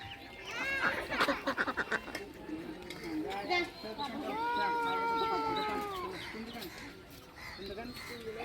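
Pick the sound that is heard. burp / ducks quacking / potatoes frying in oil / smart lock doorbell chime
ducks quacking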